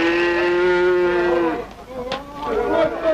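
Oxen low on a rural collective farm in a 1939 Soviet film, with one long, deep, sustained moo followed by shorter, rougher calls, loud and close.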